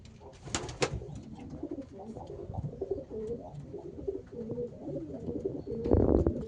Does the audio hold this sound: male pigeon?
yes